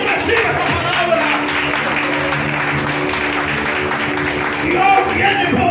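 Congregation applauding for the Lord during a church sermon, a dense steady wash of clapping lasting several seconds, with a sustained tonal hum and a preacher's voice carrying over it.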